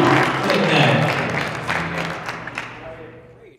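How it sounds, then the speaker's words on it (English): Audience applause for Bob Summers at a FitnessTech event at CES 2015, loud dense clapping that tapers off toward the end with a voice briefly under it. "Let's give him a round of applause for Bob"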